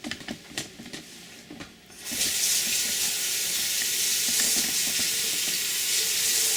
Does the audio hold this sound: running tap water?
yes